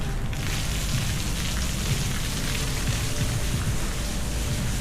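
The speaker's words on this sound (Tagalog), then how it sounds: "Medyo umuulan-ulan." Steady rain falls continuously, a dense hiss of drops on surfaces with no voices, even and unbroken throughout.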